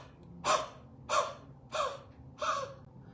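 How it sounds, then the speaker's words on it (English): Four forceful "Ha" exhales come in an even rhythm, each a sharp breathy burst from a person doing a breathing exercise, close and fairly quiet with soft pauses between. "So I inhale, and as I exhale, I reach the end of my exhale, I forcibly push out. So I make the Ha sound"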